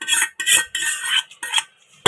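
Tempering poured into cooked tomato dal in a pot and stirred with a metal spoon, giving a series of short scraping and clinking bursts in an irregular rhythm, close and fairly loud.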